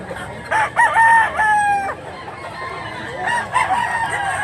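A two-kilo yellow-legged gamecock offered for sale in Mantalungon, Cebu crows loudly and close by, with another crow and some clucking following in the background.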